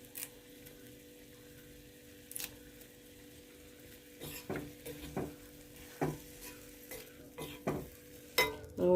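Curry leaves fry in hot oil for a nutmeg pickle, giving a steady close sizzle broken by intermittent scraping stirs of a spoon against the pan, growing busier toward the end.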